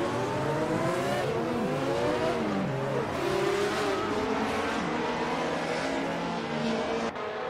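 A pack of Group C2 race cars in a racing game launches from the start at Atlanta Motor Speedway, engines revving loud and steady with rising and falling pitches layered together.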